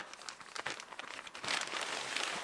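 Plastic zipper bag from a Nomatic travel backpack unboxing, crinkled and handled up close in a quick series of crackling rustles that grow denser and louder toward the end.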